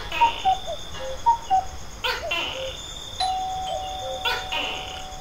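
A two-tone doorbell chime rings several times, its clear ding-dong notes sounding over a background murmur with a voice speaking at moments.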